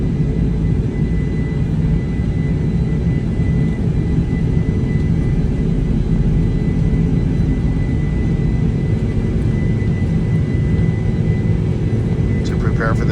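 A Lufthansa Boeing 747-400 taking off from the far end of the runway, heard from inside the cabin as a loud, steady, deep jet-engine roar with a broad rushing whir that holds unbroken throughout.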